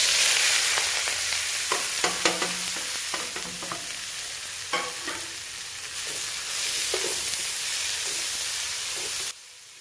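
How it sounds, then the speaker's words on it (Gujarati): Chopped onion, chilli, ginger and carrot frying in hot oil for dry Manchurian, giving a steady sizzling hiss with scattered stirring clicks and scrapes, ending abruptly as the sizzle drops away. "આપણે તેલ ગરમ મૂકી દીધું છે. આપણે આ જે શાકભાજી કટિંગ કર્યા હતા, ડુંગળી, મરચાં, આદુ, ગાજર, એ બધું નાખી દઈએ છીએ."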